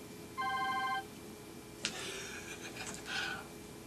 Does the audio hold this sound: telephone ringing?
yes